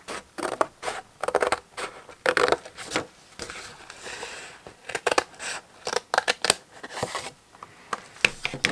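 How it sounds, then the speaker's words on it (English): Scissors cut a sheet of paper in half for a 3D paper apple and pear craft, a steady series of crisp, close snips and rustles in irregular bursts, with no talking. "So now I'm going to cut this in half."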